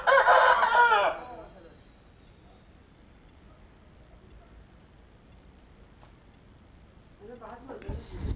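A loud rooster crow opens, then fades to a quiet hum before faint sounds return at the end.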